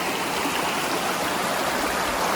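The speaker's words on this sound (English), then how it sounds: "very peaceful to be able to hear the sound of the river as you walk on it" Steady rushing creek water in the Great Smoky Mountains, swollen after recent rain, flows loud and close as a constant broadband wash with no voices.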